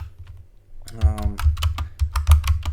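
Fast clicking keystrokes on a computer keyboard as a command is typed, an uneven run of about a dozen close, crisp taps, with a short voiced sound just before them.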